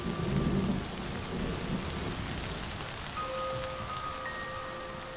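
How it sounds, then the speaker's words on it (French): Thunderstorm in the humid savanna of Kruger National Park, South Africa, with rain pattering steadily and a deep rumble of thunder early on, heard alone with no voices. "c'est le retour de la pluie"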